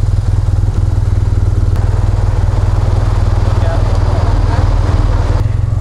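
A police motorcycle escort arrives at a Croatian border stop on a motorcycle tour, its engine a steady loud low rumble close by throughout, with people talking over it.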